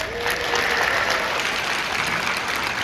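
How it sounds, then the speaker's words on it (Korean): An audience claps steadily through a speech event, a broad, even wash of applause with no voices standing out. "여러분들의 열망에 정말 큰 박수를"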